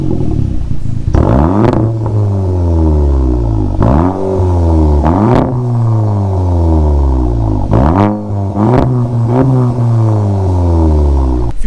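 A VW Golf 7.5 GTI with a straight-pipe exhaust is revved hard several times in a row, each blip rising sharply and falling back to a loud, raspy idle close by.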